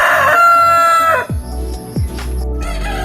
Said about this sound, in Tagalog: They have different breeds of chickens like Rhode Island, White Leghorn, Plymouth.